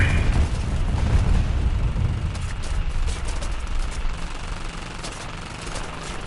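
Bombs exploding in a bomber video game, a heavy continuous low rumble of blasts that stays loud and booming throughout, with no talking.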